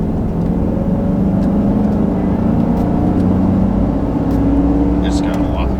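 Car cruising at highway speed with AFM disabled, a loud steady interior drone of engine, road and wind noise, with people talking inside over it.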